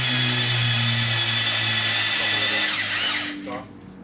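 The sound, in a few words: drill-driven cylinder hone honing an LS engine block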